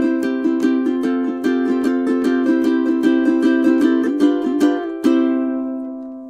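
An acoustic guitar is strummed with a composite plectrum that has a plastic core sandwiched between felt layers, giving a series of soft, rounded strums at a steady pace before a final chord rings out and fades.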